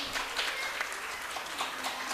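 At an annual naat gathering, an audience claps faintly and at a distance, making a soft, diffuse patter that continues without a break.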